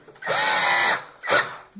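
Electric drill runs with a steady whining burst of about two-thirds of a second, pauses, then spins briefly again, close and fairly loud, during repair work on an LG F1056MD washing machine.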